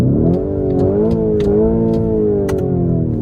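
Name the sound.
Lamborghini Urus S engine revving in neutral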